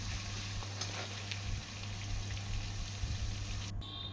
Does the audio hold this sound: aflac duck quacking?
no